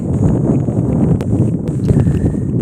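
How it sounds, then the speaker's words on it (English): Heavy wind buffets the microphone with a constant low rumble and roar, loud and close throughout, with no other clear sounds. "Oh no, this is getting ridiculously windy."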